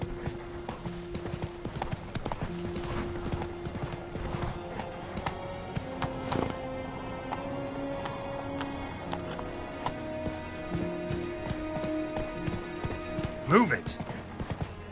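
Hooves clip-clop in a quick galloping rhythm as a horse runs in The Witcher 3, with game music tones sustained underneath and a brief louder hit near the end.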